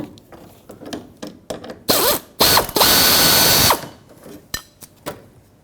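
Power drill backing out a self-tapping screw lodged in a plastic push clip on the front fender liner of a 1998-2011 Ford Ranger, with a loud whirring burst and short ratcheting bursts between lighter clicks and handling noises.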